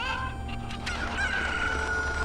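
Chickens in a Zelda video game cluck and crow in a bright, drawn-out rooster-like call over a steady background of game music, with no talk.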